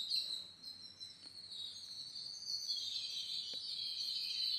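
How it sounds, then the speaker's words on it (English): A dense, high, continuous chorus of distant birdsong or insect-like trilling rises and falls, thin and steady against a quiet outdoor background, with a few faint ticks and no talk. "listen to those birds at a distance"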